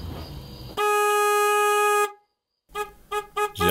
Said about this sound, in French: J'ai rarement été aussi content de klaxonner.